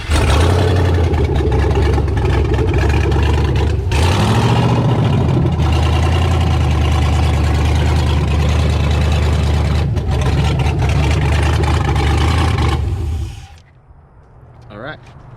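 An LS V8 swapped into a BMW F30 cranks and fires at about four seconds, then runs with a loud, close, rough idle before cutting off near the end, while people talk over it.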